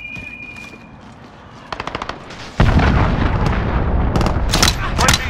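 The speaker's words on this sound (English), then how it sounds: "Allied cruise missile away." Cruise missile strike in Call of Duty: a quiet, rumbling lead-in with a few sharp cracks gives way to a sudden loud, sustained wall of explosive blasts and rolling booms, with bursts of rapid gunfire layered on top.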